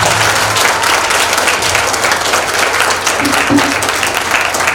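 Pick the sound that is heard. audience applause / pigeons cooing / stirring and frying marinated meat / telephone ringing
audience applause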